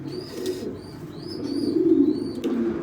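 Low, soft cooing of racing pigeons in a loft rises and falls steadily, with a few faint bird chirps above it.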